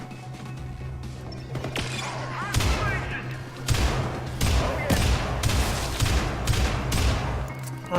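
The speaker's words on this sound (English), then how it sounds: "this shotgun's got a bit of a burst fire in it" Shotgun burst fire in the Syndicate 2012 shooter game, repeated loud, close blasts in quick clusters over a humming backdrop, with a voice talking faintly underneath.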